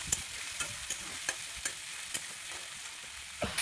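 Chopped onions sizzle steadily in a pan, close and soft, as a utensil scrapes and taps at a regular pace of roughly two strokes per second.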